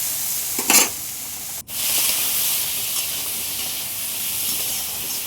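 Steady loud sizzling of bitter gourd and potato frying with onion in hot oil, with a brief stir and a clatter early on, continuous and close.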